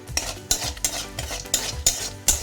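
Whole spices with bay leaf and dried chilli frying in oil while a spoon stirs them, with regular metallic scrapes about every third of a second over a soft sizzle, close and without talk.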